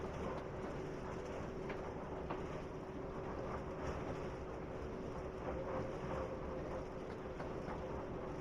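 Train running at speed past a switch on the Falmouth Branch, heard as a steady, muffled rumble with faint rhythmic clatter throughout.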